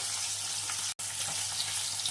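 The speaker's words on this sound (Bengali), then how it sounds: "মাছগুলো খুব কড়া করে ভাজবো না, একটু হালকা করেই ভাজবো" Small tangra fish sizzle in hot oil with a steady crackling hiss, broken by a split-second gap of silence.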